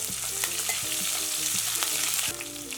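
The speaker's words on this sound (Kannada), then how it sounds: "ಮೆಣಸಿನ್ಕಾಯಿ ಸ್ವಲ್ಪ ಫ್ರೈ ಆಗಿದೆ" Green chillies and ginger fry steadily in hot oil in a pan, a continuous close sizzle with occasional stirring scrapes, no one talking.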